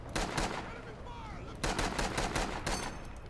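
Rapid automatic gunfire rattles in the Rising Storm 2 war shooter game, in dense bursts of shots with short pauses between them, fairly close and loud.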